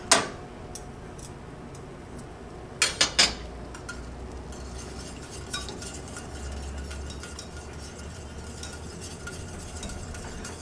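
A whisk working butter into a red wine reduction in a pan, light metallic clicks and scraping against the pan with a few sharper taps, close and fairly quiet.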